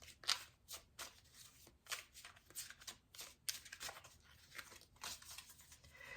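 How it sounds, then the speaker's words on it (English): Tarot card decks are shuffled repeatedly, close up, in quick riffling bursts and soft flicks with brief pauses between, fairly quiet and without talk. "I'm going to shuffle these decks."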